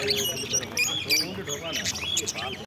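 Dense chorus of caged birds chirping, tweeting and squawking at a bird market selling cockatiels and lovebirds, busy and overlapping throughout, with someone talking over them.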